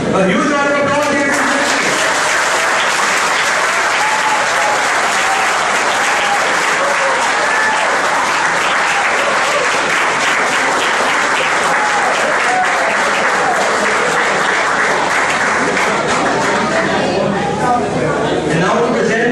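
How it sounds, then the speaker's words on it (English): Sustained, loud audience applause fills a university tribute ceremony honoring a guest receiving a gold medal. The clapping runs steadily for nearly twenty seconds, with a brief musical or voice trace at the start and faint chatter blended under it. "A huge round of applause here."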